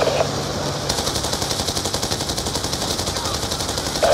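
Enemy machine-gun fire in Call of Duty: Black Ops 2, a fast, steady automatic rattle running nearly the whole time, loud and close over a rumbling battle background.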